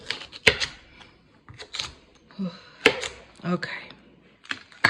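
A knife chops carrots on a cutting board in a home kitchen, giving a series of close, sharp, uneven knocks, while a person says a word in between.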